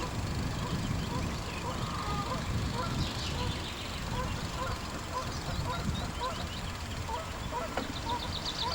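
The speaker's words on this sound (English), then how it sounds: "Some ducks, but I can't see them." Ducks quack and honk in a scattered chorus at moderate distance near Loch Voil, Balquhidder, Scotland, over a steady outdoor rumble, with no other clear sounds standing out.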